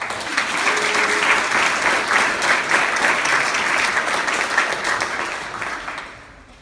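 An audience claps to welcome slam poet Maia, a sustained, dense round of applause from a full room that fades out at the end.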